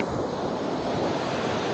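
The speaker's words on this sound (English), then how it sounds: "you might get swept away by these waves." Ocean waves breaking on Desaru beach in Johor, a loud, continuous roar of surf with wind buffeting the microphone and no voices.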